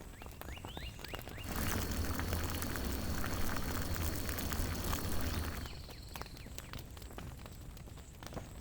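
Liquid boils in a video game, a dense bubbling and fizzing burst that swells in, holds for about four seconds, then cuts off, set against soft game ambience and scattered light clicks.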